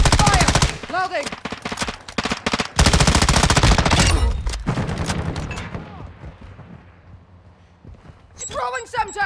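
Rapid automatic gunfire bursts from the video game Call of Duty: Modern Warfare II, loud and dense for the first few seconds, then tailing into echoing reverb and quieter combat noise, with voices shouting over the fighting.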